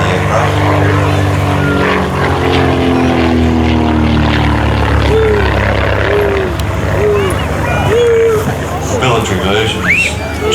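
A light propeller aircraft, military version known as the Warrior and built by Leonardo, flies at the Midland Air Festival 2019, its loud, steady engine drone carrying throughout, with crowd babble and faint chirps in the background.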